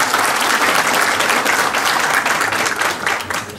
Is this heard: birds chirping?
no